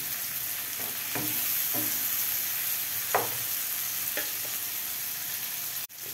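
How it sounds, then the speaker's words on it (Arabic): Onion fries with colored and green peppers under a continuous close sizzle, while a spoon stirs and scrapes the pan in several short strokes, ending with a sharp clatter. "هنزل بالفلفل الالوان والفلفل الاخضر واقلب كله مع بعض"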